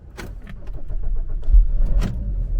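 A 2006 VW Passat that has stood unused for over seven months is started up close, with key clicks and a cranking engine that builds into a low rumble and ends in a few short knocks.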